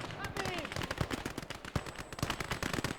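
Rapid gunfire rattles through a WWII video game battle near a village as soldiers shoot from behind fences, dense bursts of rifle and machine-gun shots, some close and sharp, others farther off.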